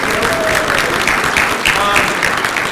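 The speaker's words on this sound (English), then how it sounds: "You don't have to always applaud" Audience at a PAX Unplugged 2022 convention panel applauds, a steady, dense wash of clapping from many hands that holds at an even level for the whole stretch.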